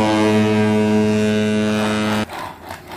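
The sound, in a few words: child imitating a ship's sound while playing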